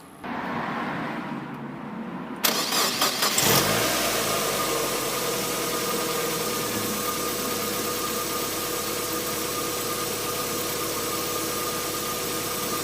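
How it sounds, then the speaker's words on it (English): A Mazda MX-5 NB engine fitted with a K&N air induction kit runs at a steady idle, with a loud, continuous intake drone and a sharp burst of engine noise early on. No one speaks. "So you can definitely hear the induction kit is sucking in the air."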